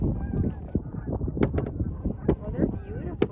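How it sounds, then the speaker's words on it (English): Several geese honk in short, irregular calls, moderately close, over a low background murmur. "Geese honking."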